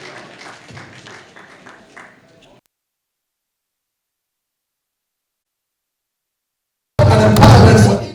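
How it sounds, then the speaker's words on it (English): An audience at an award ceremony breaks into loud applause that starts abruptly near the end after a pause, following a stretch of someone speaking. "A round of applause,"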